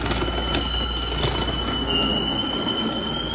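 Steady rumble and rolling noise inside a moving train in Busan, South Korea, with a high wheel squeal running through, continuous and close, no talk.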